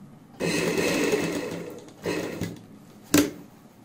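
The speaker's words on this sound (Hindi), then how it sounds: "यहाँ पे बाहर की साइड निकालते हुए हल्की सी इसके ऊपर सिलाई लगाते हैं" An electric sewing machine stitches the back neck of a designer blouse, running in three short bursts: a long whirring run, a shorter one, then a brief final buzz, close and steady with no talking.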